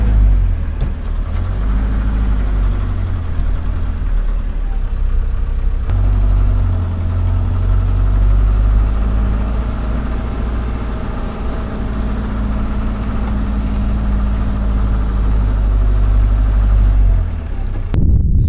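An Avia A21 truck engine runs steadily at close range, a deep continuous rumble with no pauses from start to finish, until it drops off abruptly in the final second.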